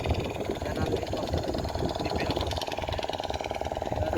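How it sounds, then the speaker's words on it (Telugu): A motor boat engine on the Godavari river chugs steadily at mid distance, a continuous throbbing drone with voices talking over it. "అక్కడ పడవ వస్తుంది కదా, ఆ పడవలో మనం వెళ్ళాలి ఇప్పుడు"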